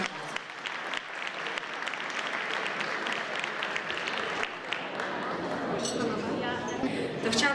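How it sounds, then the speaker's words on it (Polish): An audience at a sports gala gives a long round of applause, dense clapping blended with crowd murmur and voices, continuing at a steady level throughout. "Wielkie brawa kochani dla naszych."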